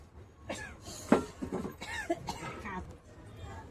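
A few scattered coughs from an ill person come through close and fairly quiet, mixed with soft vocal sounds and low background noise.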